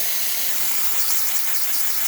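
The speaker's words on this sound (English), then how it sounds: "Also cleaned your steam wand out, which we're a test right now by just opening the valve." The steam wand of a Lelit Bianca V3 espresso machine is opened and hisses steadily and loudly, an unbroken rush of steam throughout with no other sounds.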